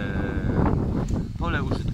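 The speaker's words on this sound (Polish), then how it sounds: "ale się wiatr zerwał" Wind gusting outdoors in the grounds of an early Baroque palace in Żyrowa, blowing leaves about; a steady broad roar with rustling bursts sits under someone speaking.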